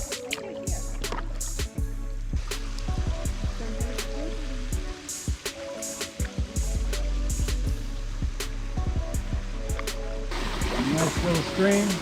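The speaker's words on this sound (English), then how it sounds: "nice little stream." Small stream flowing into a lake in Tallulah Gorge, Georgia, heard from a kayak: a steady wash of running water with nearby paddle splashes and knocks, swelling louder near the end.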